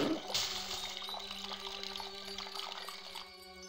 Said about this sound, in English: The water is spurting up through a little hole in the base.